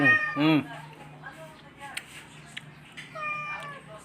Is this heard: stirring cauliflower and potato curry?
no